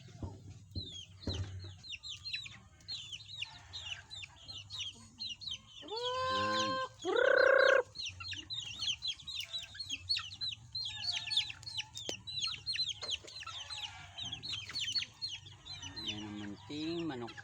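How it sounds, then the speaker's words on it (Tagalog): Small backyard chickens clucking while being fed, a rooster among them. Busy, fairly close clucking runs throughout, with a short crow partway through and faint background voices. "Ayan ang munting manok namin."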